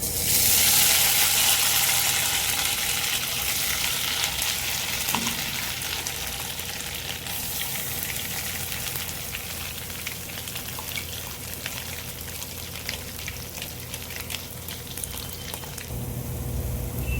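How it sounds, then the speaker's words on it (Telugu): Coconut paste fries in ghee with a soft, steady sizzle and crackle, close and continuous throughout, with faint stirring scrapes and no talking. "కొబ్బరిని ఇలా నెయ్యిలో వేయించుకున్నామండి, మెత్తగా ఇలాగా."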